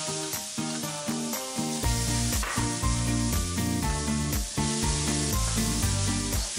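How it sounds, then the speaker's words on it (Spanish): Scallion whites, red pepper, garlic and ginger sautéing in hot oil, a steady close sizzle with quick stirring scrapes, under a strong layer of music and with no talking. "ahora vamos a saltear la parte blanca de la cebolla china o el cebollín y lo vamos a saltear también con el pimiento rojo"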